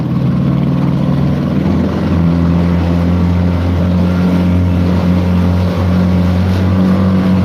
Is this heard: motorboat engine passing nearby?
yes